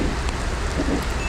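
Rain hisses steadily as a motorcycle, a Yamaha NVX scooter, rides through a downpour, a loud broadband wash with low rumbling road and wind noise and no talk.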